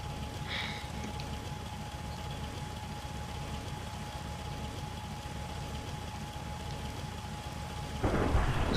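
Steady rain and rumbling thunder during a thunderstorm, a continuous broadband wash with a heavier, louder burst near the end; no talking.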